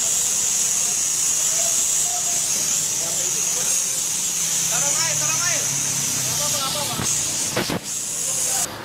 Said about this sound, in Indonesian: kadang-kadang kawan-kawan menemukan ya gas itu bocor ya, tabung gas itu